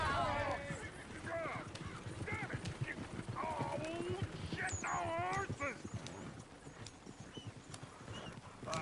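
Horse hooves clip-clop steadily in a Western frontier town in the Red Dead Redemption video game, a soft rhythmic trotting under continuous conversation between several characters.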